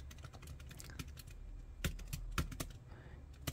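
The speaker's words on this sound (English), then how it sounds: "So hello, this is a typing test." Quick, irregular keystrokes on a computer keyboard during a typing test, a steady run of close clicks with a few heavier taps, no voices.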